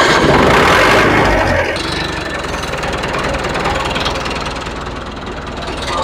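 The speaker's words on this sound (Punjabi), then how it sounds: "4 ਮਾਡਲ ਟਰੈਕਟਰ ਆ। ਇੱਕ ਵਾਰੀ ਦਾ ਆਵਾਜ਼ ਇਹਦੀ ਦੇਖ ਲਓ, ਸਾਊਂਡ ਦੇਖ ਲਓ" A 4 model tractor engine runs loud and close, a steady rough diesel rumble that is strongest at first, then settles into an even idle.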